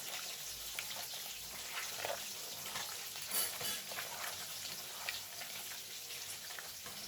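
Beef is worked together by hand with spices and soybean oil, giving soft, wet squelching and slippery stirring sounds that continue without a break, with occasional sharper clicks over a faint, even background hiss.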